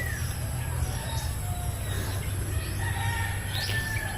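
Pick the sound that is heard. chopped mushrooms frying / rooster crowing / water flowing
rooster crowing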